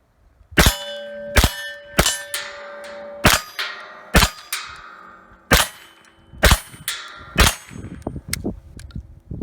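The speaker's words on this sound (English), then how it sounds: "the very first shots out of this M CARBO rifle" A Kel-Tec Sub-2000 Gen 2 rifle fitted with M-Carbo parts fires about ten loud, sharp shots at irregular intervals, each crack followed by a ringing, clanging tail.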